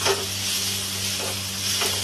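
Spice paste for mustard ladies' fingers sizzles steadily while being fried in a pan, a continuous close hiss with occasional faint stirring scrapes.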